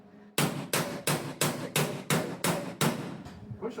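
Hammer blows on car metal during hot rod repair work, about seven sharp, evenly spaced strikes ringing close and loud, each fading before the next.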